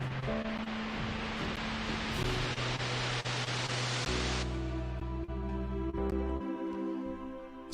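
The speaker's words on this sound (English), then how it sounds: "Just listen to the white noise." White noise swept through a music production session and sent to two return tracks, a loud, dense hiss that holds steady for about four seconds and then drops away while tonal synth layers carry on beneath it.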